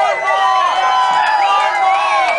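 A packed nightclub crowd at Spy Bar Chicago cheers and whoops in a dense, loud roar, with overlapping voices and shouts sustained across the whole moment.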